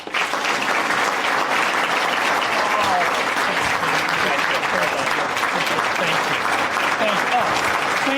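Loud, dense applause from an audience at a Lake Area Tech event greets United States Senator Mike Rounds, steady clapping that fills the whole stretch without a break.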